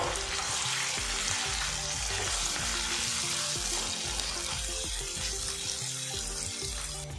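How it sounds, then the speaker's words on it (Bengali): Onion, garlic and ginger paste fries in a pan with a dense, loud, steady sizzle. Low rumbling and clatter sit under it throughout. "এদিকে দেখুন পেঁয়াজ আর রসুনটা বেশ ভাজা ভাজা হয়ে গেছে।"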